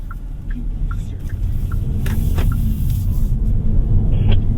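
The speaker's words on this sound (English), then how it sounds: "Off the line in sport, it is pretty quick already." A 2025 Hyundai Elantra N Line pulls away from a stop in sport mode, heard from inside the cabin as a broad engine and road rumble that builds steadily louder.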